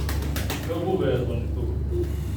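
Soft cooing from a purebred Ankara pigeon, low murmuring calls close by, heard under someone talking.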